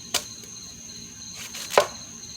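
Two sharp, distinct chops of a Tops Norseman knife through plant stems, one near the start and one near the end, against a quiet background hum.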